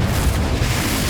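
A Confringo spell explosion in the video game Hogwarts Legacy: a short, loud, low booming burst that rumbles for about a second.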